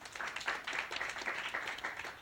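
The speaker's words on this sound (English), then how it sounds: "from the sound of the applause" An audience claps for a contestant at a live dating game show held on location, a brief burst of scattered applause at moderate distance with no talking over it.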